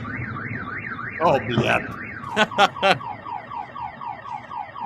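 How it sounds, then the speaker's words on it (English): A car alarm blares with a rapid rising-falling whoop that repeats steadily, loud and close, while a man briefly exclaims over it and a few sharp bangs cut in. "those Temu car alarms are always like crazy when they go off."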